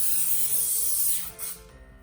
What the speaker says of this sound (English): We'll spray them with oil again.